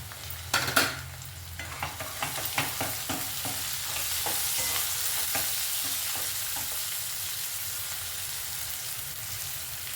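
Green chillies fry with onions and asafoetida in a pan, opening with a burst of spatula scrapes and clatter that settles into a loud, steady hiss of sizzling oil.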